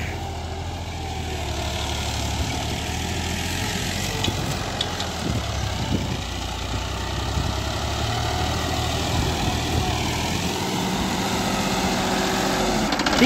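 A Massey Ferguson 9500 58hp tractor pulling a 16-disc harrow runs steadily in third gear at constant throttle, a loud low rumble with a droning hum that holds throughout.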